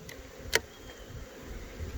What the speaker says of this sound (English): Oh wow, look at there's a big old pile of bees here.